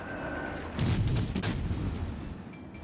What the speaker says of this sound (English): So now we'll do some good old-fashioned battleship burning here using high explosive shells.